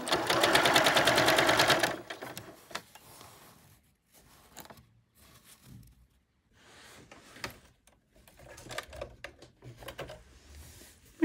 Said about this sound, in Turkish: Daha sonra tekrar katlayıp dikiyorum.